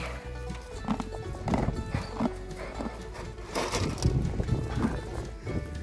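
A horse on a farm in the countryside during a dry summer, with hooves clopping and shuffling nearby, snorts and soft whinnies, and a low rumbling background.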